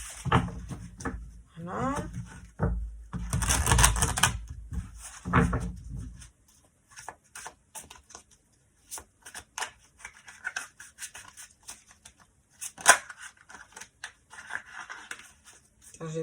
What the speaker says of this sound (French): Bien brasser le tarot.